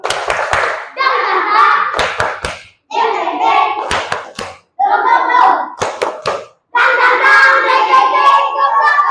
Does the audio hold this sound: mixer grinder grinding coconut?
no